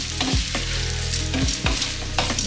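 Vegetables fry and sizzle in a pan while a utensil stirs and scrapes through them, a loud, steady hiss broken by several sharp scraping strokes, with no talking.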